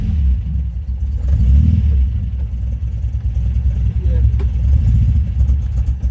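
A cold 1977 MGB GT rubber-bumper engine runs on choke, giving a steady, loud, close low rumble that surges unevenly in a rough idle throughout.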